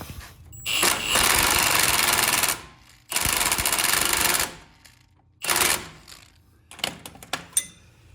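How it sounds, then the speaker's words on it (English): An 18mm socket and wrench tighten a lower bolt on a Jeep Wrangler JL during a lift kit install, giving several loud, close bursts of rapid ratcheting separated by pauses, ending in a few short clicks. "using an 18mm socket and wrench, I'm going to go ahead and tighten up this lower bolt"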